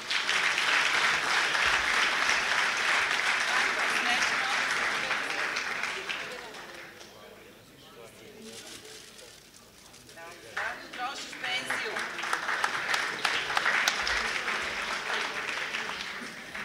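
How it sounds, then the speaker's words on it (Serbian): Audience applause at a school anniversary ceremony, a loud sustained crowd clapping that fades midway, then swells again with dense rapid claps to the end. "Molim vas jedan veliki aplauz."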